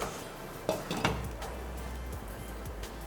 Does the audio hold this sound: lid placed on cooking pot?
yes